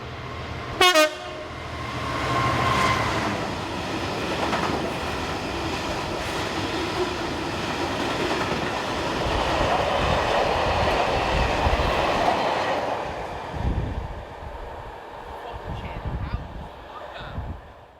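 A train horn sounds briefly, then a diesel engineering train hauled by locomotive 66849 rumbles past steadily with clattering wheels, the engine noise swelling and fading as it goes by.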